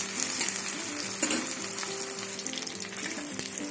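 Onions sizzle steadily in hot oil in a pan while taro stolons are prepared for a katla fish dish, a dense continuous crackle with a few louder pops and no voices.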